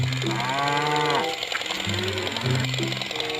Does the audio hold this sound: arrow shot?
no